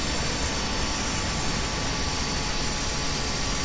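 Twin engines of a Tornado GR1 jet in Microsoft Flight Simulator 2024 throttling up, a loud, steady, broadband roar with a faint whine on top, heard alone.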